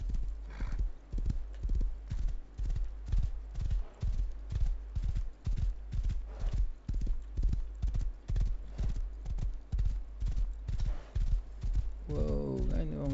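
Horse galloping in the survival game Rust, a long run of regular, close hoof beats in a driving rhythm, ending with a neigh, while someone talks over it.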